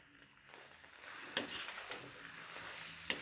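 Carrot halwa roasting in ghee in a pan gives off a steady close sizzle and bubbling hiss throughout, with two brief sharp clicks of a utensil against the pan and no voices.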